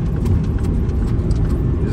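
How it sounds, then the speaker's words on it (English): Heavy road traffic on a snowy mountain highway with skiers heading out: a steady, low rumble of passing cars, continuous and fairly loud, with faint voices underneath. "There's heavy traffic, lots of people going ski today."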